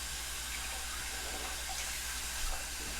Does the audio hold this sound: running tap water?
yes